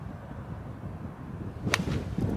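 A golf club strikes the ball on a pro-am round, one sharp crisp impact with a bright swish in the middle of steady outdoor wind, followed by a faint second tick.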